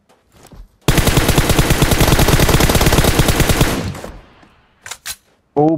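Automatic gunfire in the desert map Miramar of PUBG, a long loud burst of rapid shots lasting about three seconds, followed by a couple of isolated shots and a brief tail of quieter noise.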